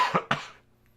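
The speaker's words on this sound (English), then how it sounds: "I apologize for the coughing" Two quick, close coughs in succession, fairly soft, followed by near silence as they trail away.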